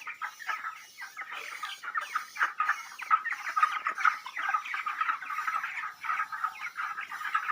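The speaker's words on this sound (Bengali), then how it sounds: "এই দেখেন আমার ব্রয়লার মুরগি" A shed of about 300 broiler chickens on a farm in Tripura clucks in a dense, continuous chorus of overlapping short calls, fairly close and steady throughout, with no talking.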